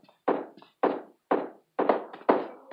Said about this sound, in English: Oh god, I hear gunshots.